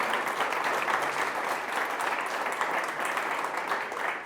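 A church congregation applauding during a service, a steady, dense clapping from many people that fills the room throughout without pause.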